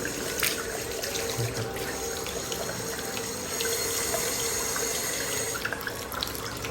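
Water pours steadily from a bathtub tap in a hotel room with a tub in the middle of the floor, a continuous close rushing flow with no talk over it.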